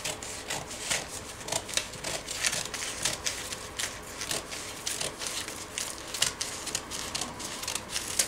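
Scissors snipping through fabric while cutting out a batwing top pattern, a steady run of soft, quick crisp snips and rustles, close and fairly quiet.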